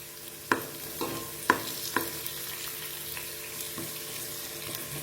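Cumin seeds dropped into hot oil in a frying pan for a puffed-rice bhel recipe, sizzling steadily with a few sharp clinks of stirring near the start, close and moderately loud with no talk.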